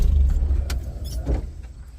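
A Chevrolet S10 pickup truck engine idles close by with a low, uneven rumble, while a few brief clicks and knocks sound over it.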